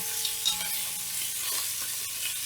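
Irish sausages for breakfast searing in a pan with a steady, moderate sizzle while being stirred and moved around, with a few soft utensil scrapes and no talking.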